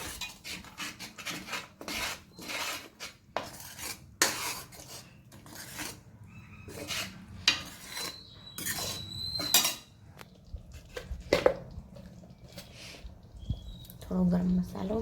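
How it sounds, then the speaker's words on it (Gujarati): Metal spoon scraping and clinking around a cooking pot while stirring coriander-cumin powder, tomato and salt for chole, with repeated irregular scrapes close by and occasional talk in between. "હલાવી દઈશું."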